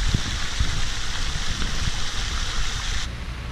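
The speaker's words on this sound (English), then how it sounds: "I love watching the fountain, doing the bubbles and sounds of the water." Steady rushing, splashing water, continuous and fairly loud, like a garden fountain bubbling and spilling nearby outdoors in a park.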